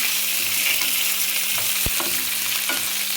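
Green chilies and ginger pieces sizzle loudly in hot oil in a pan while tamarind pulihora is being made, a constant close fry with a few stirring scrapes and knocks.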